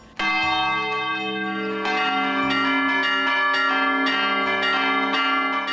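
Church bells in São João del Rei ring out loud and close, several bells struck in a steady, irregular pattern with long ringing overtones blending together, and no voices.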